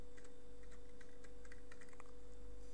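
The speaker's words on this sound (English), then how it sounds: "So I'll be typing google.com first." Fingers tap out a web address on a computer keyboard, a run of quick, light, uneven keystrokes at close range over a steady low hum, with no voices.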